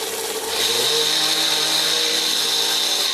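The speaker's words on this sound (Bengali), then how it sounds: "এবার সমস্ত উপকরণ ভালোভাবে ব্লেন্ড করে নিচ্ছি।" An electric blender grinds thandai masala spices with sugar. The motor kicks in after a brief moment and holds a loud, steady, high-pitched whirring roar to the end, with no voices.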